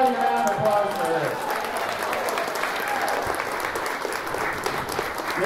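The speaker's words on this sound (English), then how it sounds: "let's get everybody a round of applause for this" Sustained applause from an audience at a community weigh-in event, steady and full across the room, with loud voices and cheers mixed in throughout.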